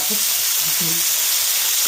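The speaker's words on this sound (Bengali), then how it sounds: "মাছটা ভাজা হচ্ছে" Fish frying in hot oil, a loud, continuous close sizzle with no break, and only faint murmurs underneath.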